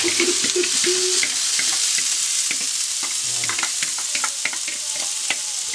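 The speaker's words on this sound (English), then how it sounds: "Onion, garlic, hot pepper mix, just going up in there, just moving around" A mix of onion, garlic and hot pepper sizzles steadily in a pan, with scattered clicks and scrapes of stirring throughout and a couple of faint tonal clinks near the start, close and fairly quiet with no talking.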